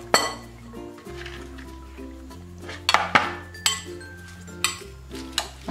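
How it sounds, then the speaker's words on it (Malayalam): White and purple cabbage filling mixed in a bowl for chicken barbecue rolls, with repeated clinking of a utensil against the bowl and light rustling, close and irregular, under a faint background hum. "ഇനി ഇത് നന്നായിട്ടൊന്ന് മിക്സ് ചെയ്ത് കൊടുക്കാം."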